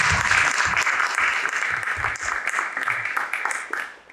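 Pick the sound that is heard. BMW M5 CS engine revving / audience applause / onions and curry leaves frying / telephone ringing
audience applause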